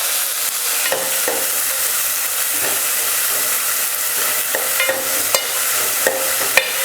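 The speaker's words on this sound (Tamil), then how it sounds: "வெங்காயம் நல்லா வதங்கட்டும்" Two large chopped onions, with cumin and two dried red chillies, fry in a pan for chow chow sambar, giving a steady loud sizzle and hiss, with scattered clicks of a spoon stirring.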